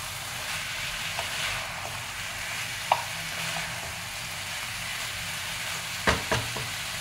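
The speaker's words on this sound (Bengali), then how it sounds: "এটাকে বেশ করে কষিয়ে নেব।" Chicken sautéing in a pan for lal jhal chicken with slit green chilli, a steady low sizzle with a few sharp clinks of a spatula stirring against the pan, no voices.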